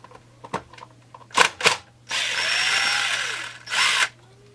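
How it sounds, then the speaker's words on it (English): Impact driver backing machine-thread screws out of a Stihl MS200T chainsaw, with a few sharp taps followed by two short bursts and a long rattling hammering run, then another brief burst, loud and close. "Sometimes it's better just to have the impact do it."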